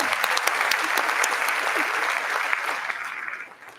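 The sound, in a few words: audience applause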